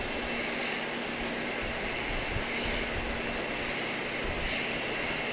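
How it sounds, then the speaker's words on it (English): A 45-year-old aircraft passes at Grand Cayman's airport, its engines making a broad, steady roar with a constant hum beneath, loud and sustained with no voices. "That is a 45-year-old aircraft."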